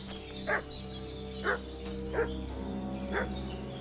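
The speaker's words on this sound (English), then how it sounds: "What's that dog making such a fuss about?" Four short, muffled dog barks in the video game Kingdom Come: Deliverance II repeat at a steady pace over a low background hum, sounding somewhat distant.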